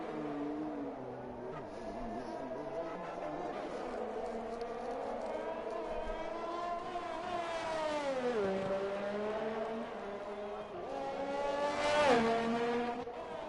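Formula 1 cars race around Monaco in a video game, with a steady high engine whine that rises and falls through gear changes and swells near the swimming pool chicane under faint background noise.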